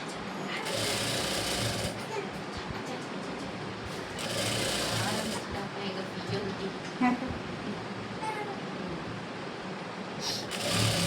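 A sewing machine stitches a blouse in several loud, close runs of rapid needle clatter, broken by short pauses.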